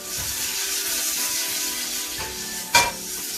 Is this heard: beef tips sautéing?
yes